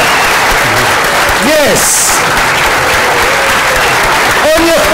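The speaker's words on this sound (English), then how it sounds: "A massive round of applause, please." Conference keynote attendees applaud loudly and continuously while cheers and whoops rise over the clapping and a voice speaks briefly above it.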